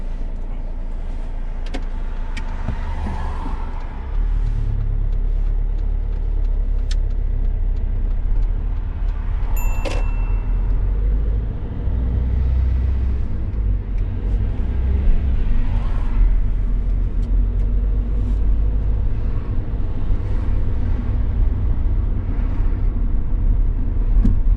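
A learner driver's car pulling away and driving on along a residential street in the UK, with steady loud engine and road rumble inside the cabin that rises after a few seconds, plus a brief electronic tone, no talking.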